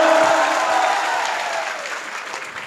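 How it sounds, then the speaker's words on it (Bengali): Rally crowd at an ISF political meeting breaking into loud applause, a dense burst of clapping from many hands that gradually fades toward the end, with faint voices underneath. "জোরে হাততালি হোক"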